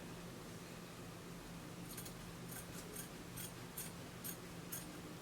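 Scissors cut fabric for a shirt kaftan dress in a rhythmic run of about eight crisp snips, close and quiet over a faint steady room hum.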